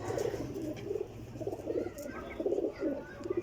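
Teddy pigeons coo in soft, repeated rounded phrases, several overlapping calls at a moderate distance against a quiet background.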